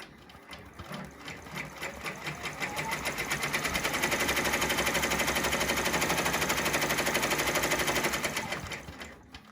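An embroidery machine stitches a teddy appliqué, its rapid needle chatter building into a loud, steady mechanical rattle that runs for several seconds before winding down at the end.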